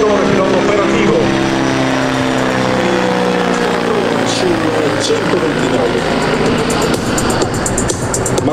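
An AH-129D Mangusta attack helicopter of the Italian Army flies at the Caorle Air Show 2024, its rotor and turbine droning loudly and steadily with a slowly shifting pitch, under continuous commentary.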